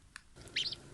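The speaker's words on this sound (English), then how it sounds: "Peep, peep, they said as they looked all around." Newly hatched ducklings give a single faint, quick high peep amid a soft, quiet background, after a tiny click.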